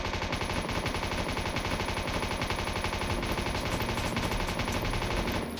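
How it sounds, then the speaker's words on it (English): An M249 machine gun test-fired in the video game Strategic Battlefront: loud, rapid sustained automatic bursts that run continuously for several seconds with no pauses or talk. "So I want to use a M249. So click test fire."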